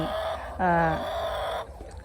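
Laying hens on a Thai village farm, one giving a short harmonic cluck-like call up close over a steady background hum, with other birds faintly around.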